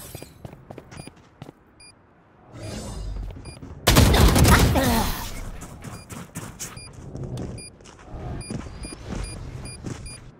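Video game gunfire comes as bursts of rapid shots, with one loud, dense volley near the middle and lighter scattered shots around it, mixed with game beeps and talk.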